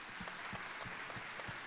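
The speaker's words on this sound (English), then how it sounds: "Audience, will you please join me in giving a round of applause" Steady applause from an audience at a 2021 commencement ceremony, a continuous wash of many hands clapping at an even level with no voices over it.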